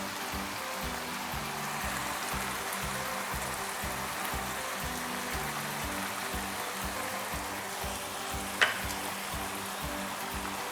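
Singaporean rice being stir-fried with chili garlic sauce, a steady close sizzle with rhythmic scraping and tossing throughout and one brief sharp clink near the end; no talking.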